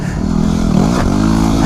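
A Yamaha WR250 motorcycle engine revs up close in a short, rising burst, its buzzy tone climbing in pitch over the steady rumble of the ride.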